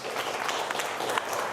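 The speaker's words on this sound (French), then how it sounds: "Applaudissez-la." A church congregation claps during a Sunday homily. The applause is a soft, continuous patter from a moderately distant crowd, fairly quiet, with no voices over it.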